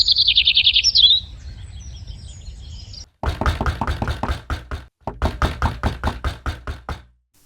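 Knocking on a front door in a home in a Hindi cartoon, heard as two bursts of loud, close, evenly spaced knocks after a short high chirping bird-like sound.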